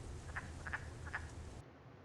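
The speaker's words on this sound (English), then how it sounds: "So the wood frog sounds like it's making a series of grunts when it's advertising for mates." A single male wood frog gives three short, duck-like grunting mating croaks at an even pace, fairly close, over a faint steady background hiss.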